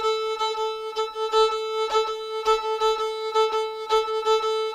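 A fiddle plays a cakewalk shuffle bowing pattern, with a bright sustained tone pulsing in a steady, repeating rhythm of accented strokes, heard alone and close.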